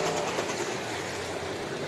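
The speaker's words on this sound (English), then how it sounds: "As the choo-choo train goes by" A train rolling past nearby during a figure 8 race broadcast, a continuous loud rumble and rattle of wheels and cars lasting throughout.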